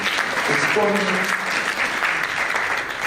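An audience applauds a lecture speaker, steady clapping from a crowd filling the room throughout, with a voice talking over it briefly.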